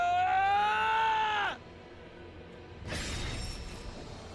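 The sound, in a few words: scream in the video game The Hundred Line: Last Defense Academy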